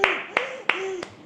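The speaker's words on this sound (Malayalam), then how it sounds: "എന്റെ കൊച്ചിന് എല്ലാരും ഒരു ക്ലാപ്പ് കൊടുക്കും." Clapping for a child in a home kitchen: four slow, sharp, close claps, evenly spaced, with a voice speaking underneath.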